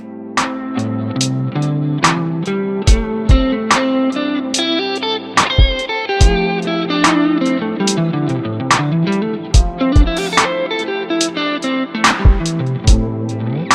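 An electric guitar with a distorted, effects-laden tone improvises on the first pentatonic scale shape, playing a loose, wandering run of single notes and short bends with occasional sharp picked attacks, close and alone.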